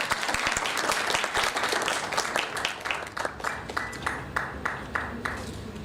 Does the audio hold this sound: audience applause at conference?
yes